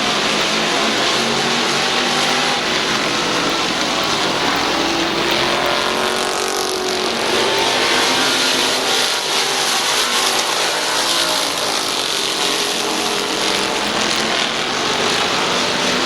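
Race cars lapping a speedway track during a fall classic race, a loud, sustained engine roar and whine that rises and falls as cars pass, without talking.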